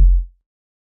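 A single unprocessed kick drum hit lands with a deep, heavy low thump that fades out within about a third of a second, heard alone.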